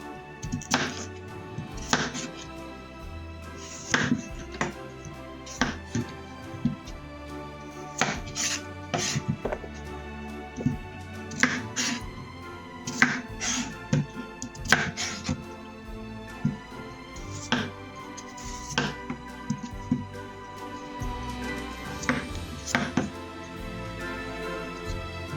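A knife slices a sweet potato into rounds on a cutting board for roasting, giving a close, steady series of crisp chops and thunks that repeat in an irregular rhythm with short pauses between strokes.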